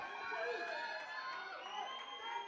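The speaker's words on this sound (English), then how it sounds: "They're on their feet, they're screaming at him" Crowd at an IPF junior and sub-junior men's 53–59 kg deadlift competition in 2014 roars and cheers continuously, a dense wash of many voices with shouts rising from it, steady and loud throughout.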